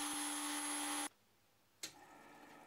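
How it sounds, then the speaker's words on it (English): A CNC machine with a lathe add-on, operated manually, gives a loud whine with steady tones, cuts off abruptly, then starts up again after a short pause. "I'm operating the CNC manually"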